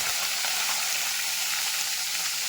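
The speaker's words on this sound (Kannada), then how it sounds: "ಬದನೆಕಾಯಿನ ಕಟ್ ಮಾಡಿ ಇಟ್ಕೊಂಡಿದ್ವಲ್ಲ ಅದನ್ನು ಸ್ವಲ್ಪ ಫ್ರೈ ಮಾಡ್ಕೋಬೇಕು ಹಂಗೆ ಹಾಕೊಳ್ತಾ ಇದ್ದೀನಿ" Cut brinjal pieces frying in hot oil produce a dense, loud, unbroken sizzle that fills the short stretch evenly, with no voices.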